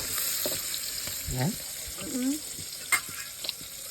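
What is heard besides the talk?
tempering dhokla in hot oil, sizzling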